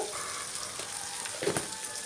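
Ginger-garlic paste, about a quarter tablespoon, sizzles steadily in hot oil for a cluster-bean curry, with a few soft stirring scrapes breaking through the close, continuous frying hiss.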